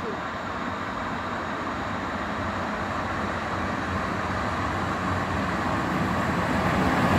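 TLK San passenger train passing through Starachowice Wschodnie station, a steady broadband rumble of wheels and rolling stock that builds slightly louder toward the end, heard up close with no talk over it.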